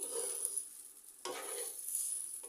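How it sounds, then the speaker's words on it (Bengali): Soaked, drained rice frying in a pan for beef kacchi biryani gives a soft, steady sizzle with quiet stirring scrapes, heard close and low with a brief louder scrape midway. "বিরিয়ানিতে চালগুলো ভালোভাবে ভাজতে হয়"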